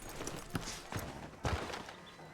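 Horse hooves clip-clopping at a walk in the Red Dead Redemption II video game, with three or four distinct close hoof strikes over a soft background.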